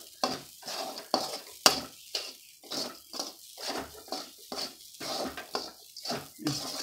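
Poha usili sautés in a pan with a rhythmic series of stirring scrapes and soft sizzles, each stroke distinct and fairly close, repeating steadily about once per half second.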